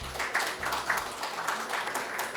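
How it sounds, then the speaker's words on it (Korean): Brief, moderate applause from the audience at a seminar on supporting local cable TV channels, scattered claps rising and falling in short bursts without speech. "큰 박수 부탁드립니다."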